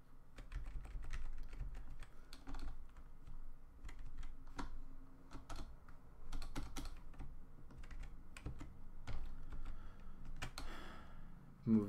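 Continuous typing on a computer keyboard during a Rust programming session, with steady clicky keystrokes at close range, some louder key presses scattered throughout, and no speech.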